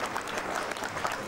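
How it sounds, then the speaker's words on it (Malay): Brief burst of applause from a dinner-gala audience at tables as a woman winner is called to the stage; dense, even clapping throughout the short span, moderately loud. "Berikan tepukan kepada Cik Rahima Muhammad dari meja"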